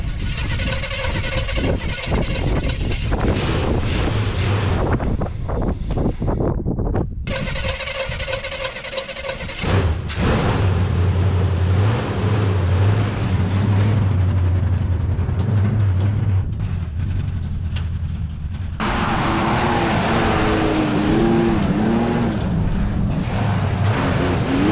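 A 1973 Chevrolet C10 pickup with a big-block engine that was an abandoned project, loud and close, cranking in uneven bursts, catching and then running with a rough, knocking idle that holds steady.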